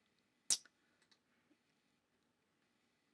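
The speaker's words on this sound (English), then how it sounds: "You can probably hear those mouse clicks." One crisp computer mouse click stands out in a quiet room, followed by a few much fainter ticks while an emulator runs.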